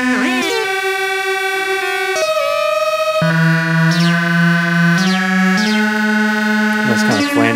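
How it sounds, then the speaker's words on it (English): A modular synthesizer plays a delay patch with a flanger effect, producing loud sustained tones that step between pitches, with sweeping comb-like swooshes and echoing repeats. "Nice kind of flangey sound."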